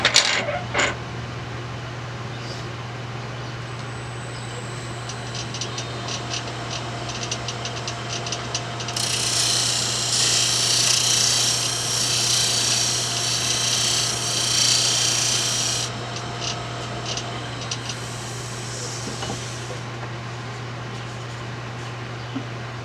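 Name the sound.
sanding wood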